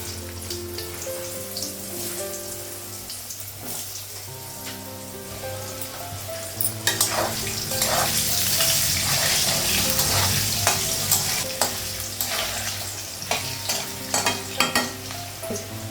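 Potatoes frying with nigella seeds and spices on lowered gas, a continuous sizzle that swells louder midway, with spatula scrapes and stirring knocks close up.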